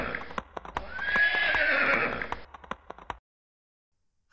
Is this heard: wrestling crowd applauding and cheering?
no